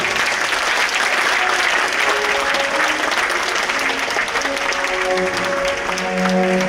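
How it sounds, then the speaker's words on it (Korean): Audience applause at a mayoral inauguration ceremony in Yongin, a sustained crowd of clapping hands filling the hall, steady and loud for several seconds with faint tonal background sound beneath. "큰 박수로 환영해 주시기 바랍니다."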